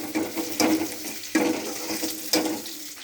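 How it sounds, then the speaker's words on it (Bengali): Chopped onions sizzle in a pan for a spicy sol fish curry, a steady broadband hiss broken by a few louder stirring bursts, close and alone with no talking. "পেঁয়াজটা একটু ভেজে নেবো"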